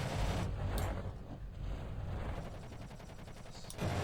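Rapid M230 chain-gun fire from an armed craft in Kerbal Space Program with BD Armory, a dense rattling burst heard loud and close, with a short break near the start and the rattle swelling again toward the end.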